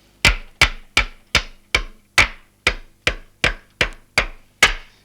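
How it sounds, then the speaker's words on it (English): Twelve sharp, evenly spaced hammer blows drive masonry pins into brickwork of a cold outside wall during insulation fitting, each strike a close, loud, ringing knock with a quick decay, steady and unhurried, with no talking. "These are masonry pins, of course, going straight into the brickwork"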